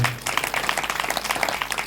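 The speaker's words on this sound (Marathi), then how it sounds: "छोटा भाऊ आहे त्यांच्यासाठी एकदा टाळी वाजवू." Devotees at a Ram Katha discourse break into a short round of applause, many hands clapping in a steady, moderately loud patter throughout.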